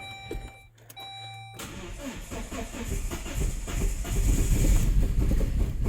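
A Saab 9-3 Aero engine with an intermittent low-compression fault runs unevenly on three cylinders, a close, rough, loud mechanical rumble that starts after a brief, quieter stretch and grows in level.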